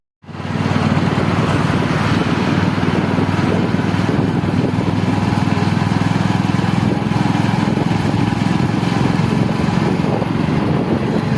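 A motorbike riding on a road during a long-distance journey, its engine droning steadily and loudly up close with wind buffeting the microphone throughout, no voices.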